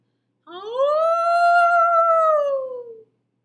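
A single voice imitates a howl, one smooth rising then falling tone held for about two and a half seconds, close and clear against silence.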